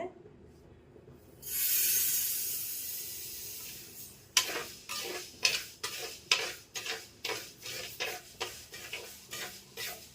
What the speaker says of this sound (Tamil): இப்போ ராகி நல்லா வறுவட்டாச்சுங்க.